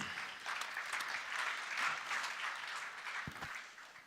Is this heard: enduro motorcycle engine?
no